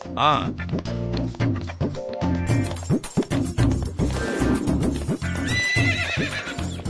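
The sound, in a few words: horse-drawn cart, horse neighing and hooves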